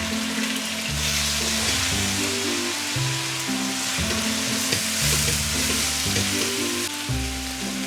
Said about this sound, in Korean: 파향이 노릇노릇 올라오기 시작하면 양파랑 마늘 다 넣고 볶아주세요.